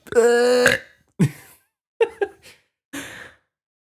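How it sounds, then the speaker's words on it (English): A man burps in several loud, forceful bursts, the first long and drawn out, followed by three shorter guttural belches separated by silence. "He's just violently burping."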